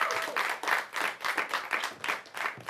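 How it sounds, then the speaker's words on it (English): A live studio audience applauds as a reverend is welcomed onstage at a talk-show taping, producing a dense, steady patter of many hands clapping with slight surges throughout. "A round of applause for him."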